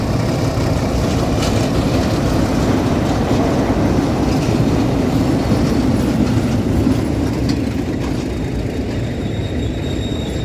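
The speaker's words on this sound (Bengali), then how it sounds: "একটি ট্রেন আসছে, যেটা আপনার শালিমারের দিক থেকে আসছে ট্রেনটি" The Lokmanya Tilak Mumbai express from Shalimar rolls into Padmapukur rail station in Howrah, a loud, continuous rumble with faint clickety-clack of wheels that holds steady throughout.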